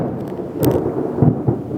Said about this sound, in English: This rain is being really rude